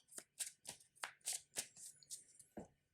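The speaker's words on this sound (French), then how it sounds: "on me demande de remélanger le deck de rencontre" A deck of encounter cards for a superhero card game is shuffled by hand at close range, a quick series of crisp riffling bursts and soft taps in uneven rhythm, fairly quiet and alone.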